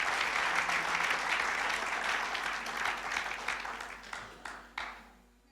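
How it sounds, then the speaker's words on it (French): Church congregation applauding during a charismatic service, a dense wash of clapping that fills the room and then thins and fades, with a few last separate claps near the end. "On peut applaudir le Seigneur parce que tout peut changer."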